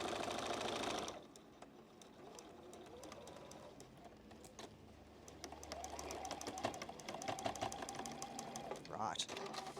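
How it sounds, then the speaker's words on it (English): A sewing machine stitches a quilt block slowly over pins, its needle running in rapid clicking bursts with pauses between them, while a person talks quietly nearby. "I'm very slowly actually sewing over the pins because you want that nice finish on that intersection."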